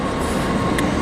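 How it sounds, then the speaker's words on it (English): A train at Central station, with a continuous rumble and rail hum close by and no speech, heard only briefly. "that's the train I just got off of"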